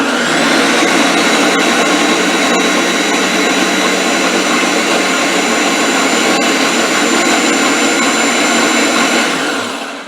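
A blender whirs steadily at full speed, mixing homemade tomato sauce made from scratch, loud and continuous for about nine seconds before winding down at the end, with no talking.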